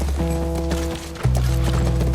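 Hooves of a horse galloping in The Last of Us Part I pound in a steady clip-clop over a droning game score, loud and close, with no talk during the run.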